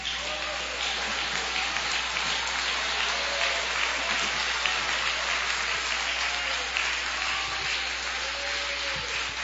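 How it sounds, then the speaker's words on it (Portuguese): A church congregation claps together in a dense, continuous wash of applause that sounds like heavy rain, steady and fairly loud throughout, with faint voices in the background. "Pode tomar o seu assento, batam palmas e glorifiquem a Jesus."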